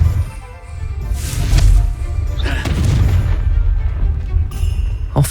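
A Confringo fire spell going off in Hogwarts Legacy, heard as a heavy boom with a crashing burst followed by rumbling magical impacts and a sharp hit near the end, with no talk over it.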